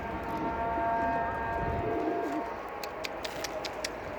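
Pigeons coo in a loft with soft, throaty, repeated calls, close by. Sharper chirps and clicks join in toward the end.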